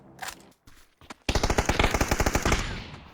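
Gunfire in the PUBG video game: a brief shot or two, a short pause, then a loud rapid automatic burst of closely spaced rounds that tails off, no talking.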